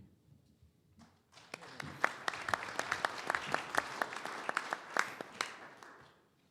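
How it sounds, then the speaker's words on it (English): A small audience at an annual meeting breaks into applause, individual sharp claps clearly distinct, building quickly and holding steady before fading out, fairly close and modest in volume. "you deserve an applause for your safety"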